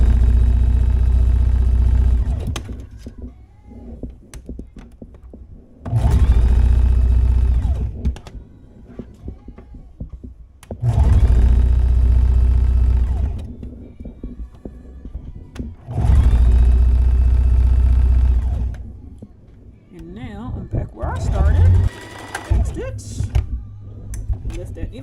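Serger sewing a cropped tee: three long, steady motor runs, each several seconds, with pauses between, loud and close, with intermittent talk in the quieter gaps.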